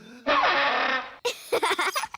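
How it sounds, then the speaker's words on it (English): A rough, raspy, sputtering blast of about a second comes from the sparl throttle, a silly-sounding fairy musical instrument in the cartoon Ben and Holly's Little Kingdom, and a voice then speaks briefly. "That's the sparl throttle."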